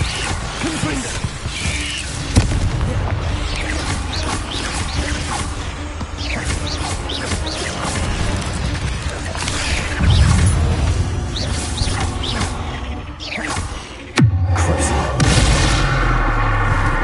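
Hogwarts Legacy combat with Confringo spell blasts: repeated booming explosions and whooshes with crashing impacts, including sharp loud bursts, under ongoing game effects and a spoken voice.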